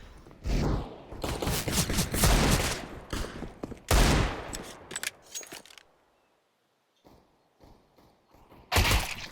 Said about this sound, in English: It's HR that takes that machine gun.